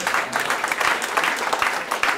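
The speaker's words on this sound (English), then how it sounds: "Give yourself a big round of applause." A roomful of people applauds, dense rapid clapping sustained throughout at moderate loudness.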